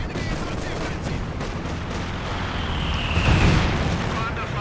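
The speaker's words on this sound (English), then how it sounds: "frag bombs coming down, but not the best against tanks" Frag bombs exploding in Company of Heroes 2, a dull booming swell amid scattered gunfire, with a voice talking over the battle noise.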